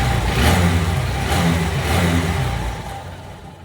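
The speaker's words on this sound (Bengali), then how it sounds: "এখন আমরা ইঞ্জিনের সাউন্ডটা ফাইনালি চেক দিব।" A Hero Hunk 150 motorcycle engine, freshly reassembled after valve clearance adjustment, runs close and loud with a steady, smooth throb that swells slightly and then eases toward idle.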